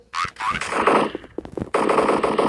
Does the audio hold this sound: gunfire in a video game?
yes